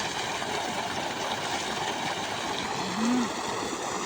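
Well water flows into a wheat field as a faint, steady rushing gurgle, continuous and even, with a short low hum rising briefly near the end.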